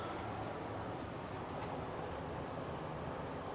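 A themed train ride aboard the cruise ship Utopia of the Seas gives a steady, close rumble of carriage and rolling noise that runs unbroken throughout, with no voices.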